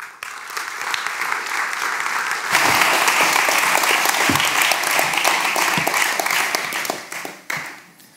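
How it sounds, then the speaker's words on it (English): Warm audience applause at a graphic design and activism talk, steady clapping that swells louder partway through, holds for several seconds, then tapers off near the end. "Please, a warm applause."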